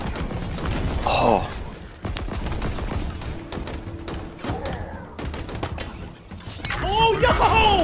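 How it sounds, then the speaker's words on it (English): Ravager weapon fire in the Halo Infinite game, a burst of sharp repeated shots over a busy game mix, with a man briefly exclaiming. "What is that gun? Oh, it's a spiker. A Ravager."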